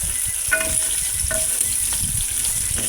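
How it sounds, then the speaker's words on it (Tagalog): Pork ribs browning in melted butter in a pan give a steady, close crackling sizzle throughout, with a few faint clinks of a utensil stirring, and no voices. "Pakapitin natin talaga yung butter. Saka pa-brown natin konti yung ating mga pork ribs."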